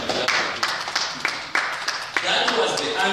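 An audience clapping together at an educational talk in Zimbabwe, giving a handful of sharp, evenly spaced claps that swell into brief applause, under a speaking voice.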